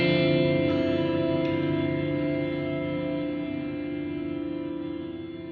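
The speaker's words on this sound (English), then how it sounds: "I love that reverb" A sustained music chord rings out with heavy reverb and some distortion, a dense wash of tone that slowly decays and fades with no voices over it.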